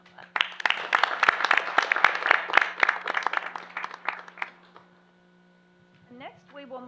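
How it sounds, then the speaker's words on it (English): An audience at a school board meeting claps for about four seconds in dense, close applause, which fades to near silence before a person starts speaking. "So, final"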